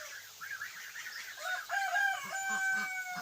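A young rooster crows after a fight with another young cockerel, a single wavering call rising and falling over a few seconds at moderate distance, with faint clucking and farmyard background.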